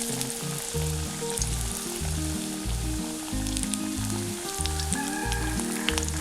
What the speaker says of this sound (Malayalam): ഇനി ഇതൊന്ന് തിരിച്ചും മറിച്ചുമൊക്കെ ഇട്ടിട്ടൊന്ന് ഫ്രൈ ചെയ്തെടുക്കണം.